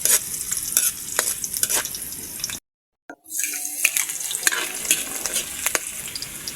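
Garlic sizzles and is stirred in a hot pan for a squid-in-Sprite home cooking dish, a steady frying hiss with scraping stirs, cut by a brief silent gap before the sizzling resumes.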